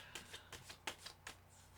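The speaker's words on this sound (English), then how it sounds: "the shuffle is right" Tarot cards are shuffled quietly at close range, giving a series of soft, brisk riffling bursts in a near-silent room.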